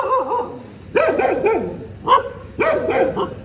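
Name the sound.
dogs barking, including a Rottweiler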